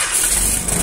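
A 4DR7 engine cranks and catches in a brief, loud burst of mechanical noise that settles quickly toward a running idle.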